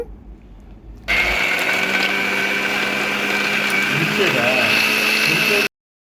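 A mixer grinder blending cashews and almonds switches on abruptly and whirs loudly at a steady high pitch for several seconds, then cuts off into silence.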